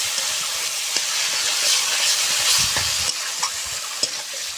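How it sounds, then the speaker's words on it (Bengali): Spice paste with turmeric and salt stir-fried in oil in a pan, giving a steady close hiss and sizzle with scraping stirs running through it. "সুন্দর করে মশলাটা আমি এভাবে কষিয়ে নেব।"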